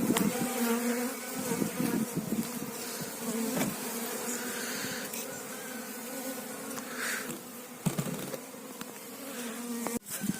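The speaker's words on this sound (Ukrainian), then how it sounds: "Так, бджолки, не нервуйтеся." Honeybees buzz continuously and fairly close at an open hive during a spring inspection, a dense droning hum with occasional louder passes and a few soft knocks, no talking.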